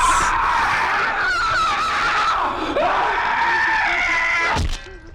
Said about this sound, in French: Les cris sont horribles.